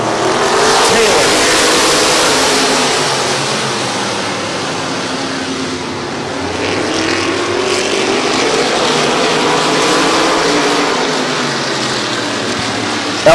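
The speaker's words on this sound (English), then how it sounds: "Getting ready to go green. 10-lap heat race." Race cars at a speedway in a 10-lap heat race, a loud broad roar of several engines that swells and fades as the pack circles, with a commentator's voice over the noise.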